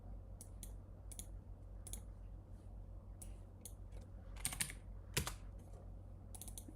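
Typing on a computer keyboard while coding Python in Emacs, with bursts of close, sharp key clicks and a couple of heavier presses over a low, steady room hum.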